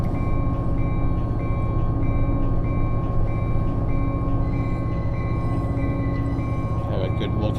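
A freight train in the Run8 train simulator rolls past near Barstow with a steady, loud rumble and regular rhythmic clacking of wheels over rail joints, continuous throughout.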